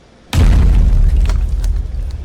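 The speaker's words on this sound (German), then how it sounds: "Das war ja klar, dass der Mülleimer explodiert." A trash can explodes in the video game Make Good Choices with a sudden loud, deep boom, followed by a rumbling tail that fades slowly.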